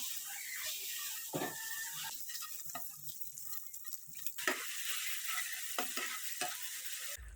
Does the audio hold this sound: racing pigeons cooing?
no